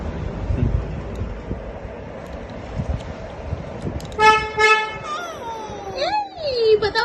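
A child's toy car horn toots in a quick series of bright, repeated beeps, followed by a falling electronic tone, heard close up after wind buffeting and adult voices talking over it.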